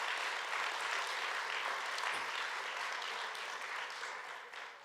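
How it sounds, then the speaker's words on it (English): Audience applauding at a public event in the South Bronx; a continuous wash of many hands clapping, moderately loud and even throughout, tapering slightly at the end. "Let's give them a strong round of applause."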